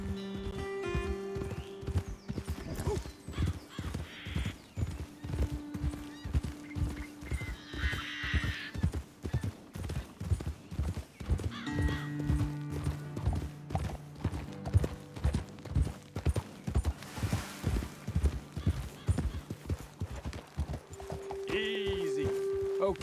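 Rhythmic clip-clop of horse hooves trotting throughout in the video game Red Dead Redemption 2, with occasional neighs and whinnies, close up, some voices talking over the hoofbeats.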